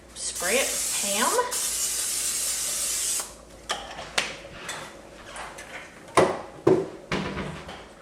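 Cooking spray hisses onto a baking dish in a home kitchen in two loud continuous bursts, followed by scattered clicks and clatters of handling.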